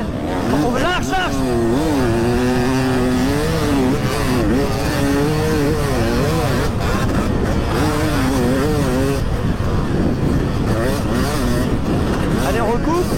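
Several 250cc motorcycles ride through sand, their engines droning and revving with rising and falling pitch throughout, loud and close, while someone shouts instructions over the noise.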